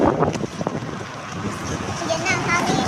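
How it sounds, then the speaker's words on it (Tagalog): Strong wind from Super Typhoon Rolly gusts and buffets the microphone in an uneven roar, with people talking over the rushing air. "Ayan na guys, mahangin na."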